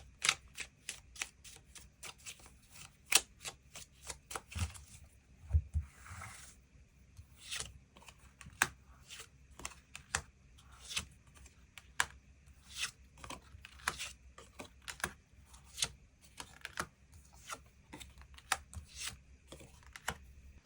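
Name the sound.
tarot cards being shuffled and drawn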